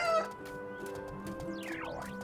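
Game chickens in No Place Like Home cluck softly over looping background music and a sweeping chime, no voices, quiet and brief.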